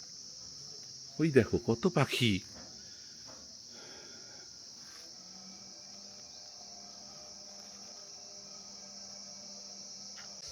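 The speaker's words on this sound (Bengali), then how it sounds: "ভীষণ চারদিকে ঝিঝি পোকার ডাক আর পাখির আওয়াজ আছে" Crickets chirp in a Darjeeling tea garden as a steady, high, continuous drone throughout, while a person speaks briefly near the start.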